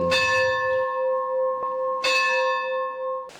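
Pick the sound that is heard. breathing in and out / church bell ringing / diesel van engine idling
church bell ringing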